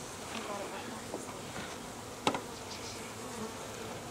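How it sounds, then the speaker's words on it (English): Honeybees buzz continuously around an outdoor 2012 package hive installation, a soft steady hum close by with one sharp knock partway through and faint voices in the background. "It's pretty cool, and this is a lot of bees."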